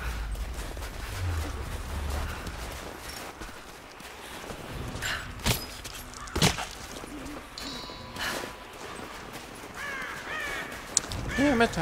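In the video game Tomb Raider, a crow caws a few times amid outdoor ambience, short harsh calls standing out above rustling, footsteps and several sharp thuds, moderately near.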